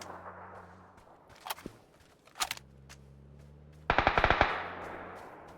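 Gunfire in the video game PUBG: Battlegrounds, with two isolated sharp shots followed by a fast burst of about six rapid automatic shots, fairly quiet over a low steady hum.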